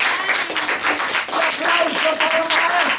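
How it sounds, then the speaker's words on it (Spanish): Audience applause for an assistant at a Santa Claus visit to a primary school class, dense clapping held steadily throughout, with a voice speaking over it and some tonal sounds partway through. "Aplauso para Enrique, mi asistente."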